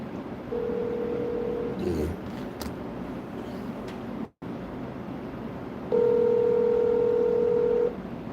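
Telephone being dialed for a call, with a steady dial tone, brief key presses, then a longer ringing tone at a moderate level over faint background hum.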